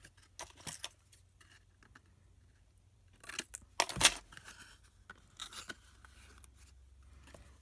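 Scissors trim the end of paper for an Easter egg box in short, crisp snips with light paper rustling, one louder cut in the middle, close and otherwise quiet.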